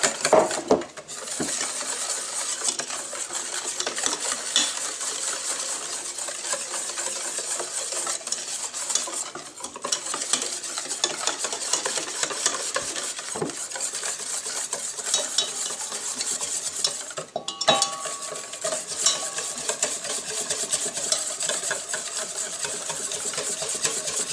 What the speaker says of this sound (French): on va intégrer le lait et surtout continuer à mélanger